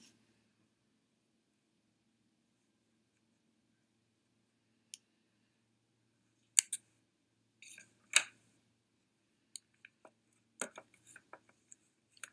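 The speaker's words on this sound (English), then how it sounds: "you can clip those with a small pair of scissors" A few sharp snips and clicks of small scissors cutting rubber pieces on a headphone headband, sparse and close, with quiet stretches between the cuts.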